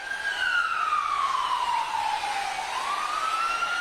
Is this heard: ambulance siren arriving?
yes